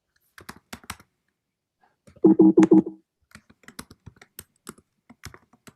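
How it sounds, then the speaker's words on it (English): Typing on a computer keyboard in a board meeting setting: scattered clicking keystrokes, then a quick rapid burst of several keys, then more irregular taps, close and fairly clear with no talk. "And if you want to type in it, you just click once and start typing."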